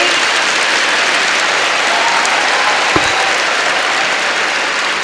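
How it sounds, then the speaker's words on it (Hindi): Loud, dense applause from a large crowd of students at a motivational talk, a continuous roar of clapping held steady for about five seconds. "आप लोगों को खुद के लिए एक बार बहुत ज़ोरदार तालियां बजानी चाहिए खुद के लिए।"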